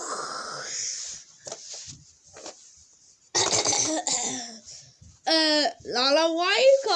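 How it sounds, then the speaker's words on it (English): A person coughs in several rough, wheezy bursts, with throat clearing and vocal sounds between them, close and loud, in a child's playroom game about a rocket launch going wrong. "why are you coughing?"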